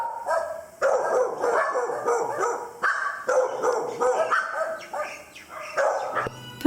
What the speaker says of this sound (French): Le silence n'est perturbé que par les chats et les chiens errants qu'un gardien vient nourrir.